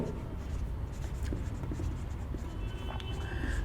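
Marker or chalk writing on a board during a Class 11 chemistry lecture on hydrocarbons, a steady close scratching and tapping that runs throughout with no voice.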